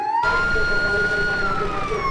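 Fire engine siren from the Gianyar regency fire brigade at a police city-security drill, a loud steady wailing tone close by, sustained throughout with faint crowd noise beneath.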